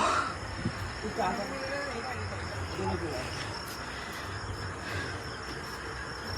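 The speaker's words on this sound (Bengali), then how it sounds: "দেখো ঝিঝি পোকার ডাক" Crickets chirp steadily in a dark, dense forest at night near Mandarmani, a high continuous trilling in the background while people talk nearby.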